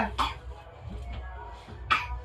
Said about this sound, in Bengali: কি হচ্ছে? কাশি হচ্ছে?